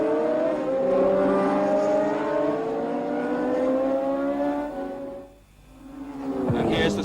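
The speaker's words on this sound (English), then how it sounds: "Hunt first, Mass 2nd. And now Oertel following the 2 McLarens." Formula One race cars at the Fuji Japanese Grand Prix, with McLarens leading, roar steadily with rising, shifting engine notes that dip briefly before building again, loud and close.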